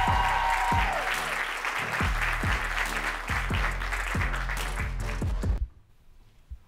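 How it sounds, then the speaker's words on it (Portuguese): Audience at a stand-up comedy show in Porto claps loudly and steadily for about five and a half seconds, then the applause cuts off abruptly to near silence. "recebam com um forte aplauso o meu primeiro convidado desta noite, vindo de Lisboa, Marco Marques!"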